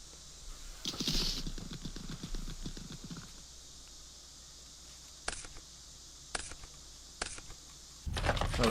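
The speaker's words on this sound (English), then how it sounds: "shuffling sound, not bad" Cards shuffle in a Yu-Gi-Oh video game, first a quick, quiet riffle of rapid clicks lasting a couple of seconds, then a few separate sharp taps and a final rustle.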